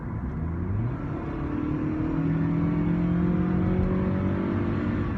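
A Toyota Camry accelerating at full throttle, heard from inside the car: a loud, close engine note climbing steadily in pitch with a low rumble and road whir beneath, with no talking.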